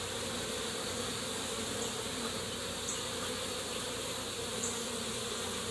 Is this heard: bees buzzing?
yes